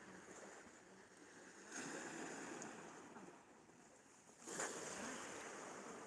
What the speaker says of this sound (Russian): Вот шум прибоя, надеюсь, слышно.